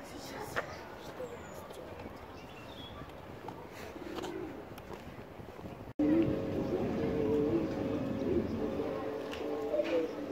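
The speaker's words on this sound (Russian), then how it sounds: "Голуби на таксодии выглядят здорово." Pigeons perched in a bald cypress tree in subtropical Sochi coo softly in the background of a steady outdoor hum. The ambience grows louder partway through, and voices seem to be present.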